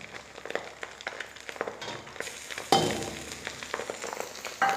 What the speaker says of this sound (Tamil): இப்போ அடுத்தது இஞ்சி பூண்டு பேஸ்ட் போட்டுக்கிறேன்